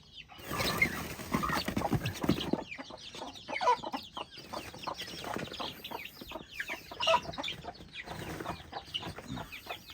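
Rhode Island Red chickens cluck and chatter on a farm in a busy, overlapping flock. Irregular bursts of clucking come from close by, with occasional louder squawks.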